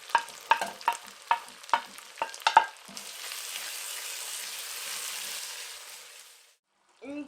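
A spoon clatters against a pot in several quick knocks as tomato, onion and pepper are stirred, followed by a soft steady sizzle of the vegetables sautéing that fades out. A voice comes in at the end.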